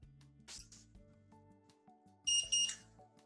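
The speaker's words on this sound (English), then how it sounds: "Once filled, we should hear 2 beeps, which indicate the pod is activated" Two short high-pitched electronic beeps from an Omnipod DASH insulin pod signal activation after filling, sounding close together near the end over a quiet background of low tones.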